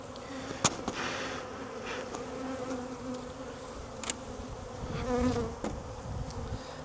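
Honey bees swarm around a brood frame pulled from a hive, humming in a dense, steady buzz close by, with a few sharp taps and knocks breaking through the drone.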